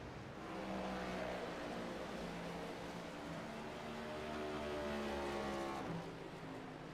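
Race cars circling behind a pace car at Watkins Glen International in a sim racing game, a steady layered engine drone with several overlapping tones that holds throughout, dipping briefly near the end.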